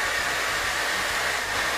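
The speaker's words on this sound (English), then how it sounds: "all you're going to do is just hit it with the dryer." A hair dryer blows hot air onto hair rolled around a real bristle brush, a loud, steady, close rushing roar that continues evenly throughout with no talking.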